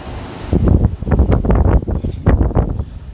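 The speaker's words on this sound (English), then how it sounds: "Trying to get windy as hell up here" Gusty wind on a penthouse balcony in Cancun, Mexico, buffets the microphone in loud low rumbling bursts, rising and falling irregularly, with no voices.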